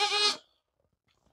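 A goat bleats once, loud and close, a harmonic cry lasting about a third of a second before near silence, with a faint start of another sound at the very end.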